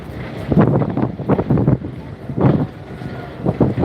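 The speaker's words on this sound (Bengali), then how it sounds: "এখন ঘাট প্লেসে আছে ইগল তিন লঞ্চ চারটা তিরিশ মিনিটে ছেড়ে যাবে লঞ্চটি" Passenger launch moored at the Sadarghat river terminal in Dhaka, heard as a steady low rumble and churn of water mixed with gusty wind buffeting the microphone, loud and continuous, no talk.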